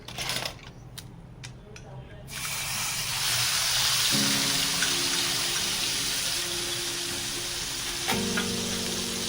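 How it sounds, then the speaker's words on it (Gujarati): Onion paste goes into hot oil and bursts into a loud, steady sizzle after a quieter start with a few clicks, frying on close up with no talk. "હવે આ તેલમાં આપણે પેસ્ટ નાખીશું."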